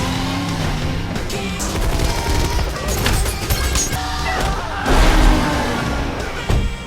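Gunfire and crashes ring out during a car chase shootout in an action film, dense and loud throughout with sharp bursts and a heavier impact near the end.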